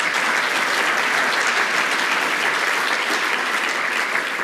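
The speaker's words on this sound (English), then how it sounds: "Give them a round of applause," An indoor audience applauds loudly and continuously at a political speech event, a dense uniform clapping that holds steady throughout with no talk over it.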